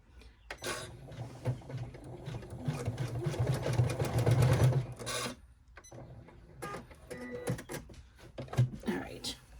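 An embroidery machine stitching a quilted bag in the hoop, a close mechanical whirring and rapid needle clatter in uneven runs with short pauses, a voice speaking over parts of it.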